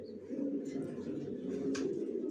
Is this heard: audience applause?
no